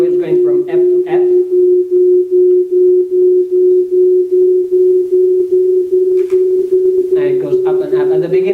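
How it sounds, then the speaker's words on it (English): A steady pure tone holds at one pitch for several seconds, with a person talking briefly before and after it. "It's like sine waves, so it's pure sine waves going from F to F."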